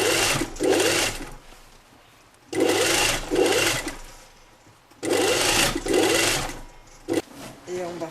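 A sewing machine stitches drawstring trousers in short repeated runs of about a second each, starting and stopping with pauses between, while people talk quietly in the gaps.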